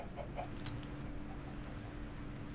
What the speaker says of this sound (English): Come on, little chicken.